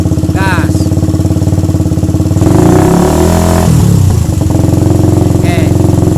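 Suzuki Satria FU motorcycle engine idling steadily, then revved loud and close for about two seconds before settling back to idle, with voices talking faintly over it.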